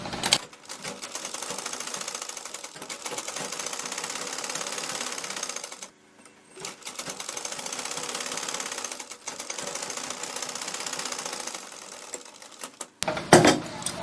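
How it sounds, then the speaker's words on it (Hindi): A sewing machine runs fast and close while stitching a blouse lining, a dense continuous rattle that stops for a moment midway, then resumes and ends with a few clunks. "अब यहाँ से इसको सिलाई लगाएंगे।"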